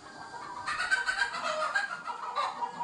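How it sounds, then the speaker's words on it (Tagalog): Chickens clucking and calling in a flock on a hot summer day, a steady busy chatter close by with overlapping squawks, no talk. "Nag-iingay na yung mga manok."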